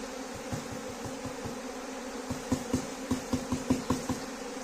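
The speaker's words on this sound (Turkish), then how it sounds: "Yüzlerce arı uçuşuyor şu an." A swarm of hundreds of honeybees flies around the combs during a natural swarm capture, giving a steady low droning hum with a run of soft rhythmic knocks or taps growing louder in the second half, no speech.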